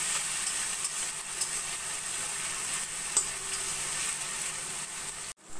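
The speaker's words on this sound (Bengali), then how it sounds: "একটু ভাজা ভাজা করে নেব।" Ginger-garlic paste fried in a pan with salt, turmeric, cumin powder and chilli powder for street-style ghugni gives a steady close sizzle, stirred throughout, then cuts off abruptly near the end.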